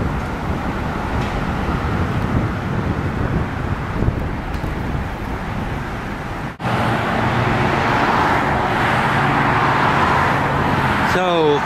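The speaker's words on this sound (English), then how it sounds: "Traffic coming from Clyde Morris Boulevard, I-95," Road traffic passes on Clyde Morris Boulevard, a steady rumble of cars swelling as they go by, mixed with wind buffeting the microphone, and an abrupt change in tone partway through.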